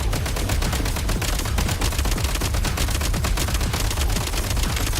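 Rapid, dense gunfire from a gun in Genshin Impact, a continuous loud rattle of shots with no pauses.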